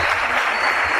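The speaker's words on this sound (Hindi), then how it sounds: "उनके लिए जोरदार तालियां" Audience applause at a business meeting, a dense, steady wash of many hands clapping throughout, loud and close with no pause.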